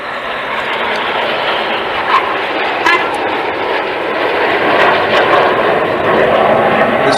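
Red Arrows jets fly at the Duxford Battle of Britain airshow, a loud sustained roar of jet engines with a broad rushing tone, steady throughout with slight swells.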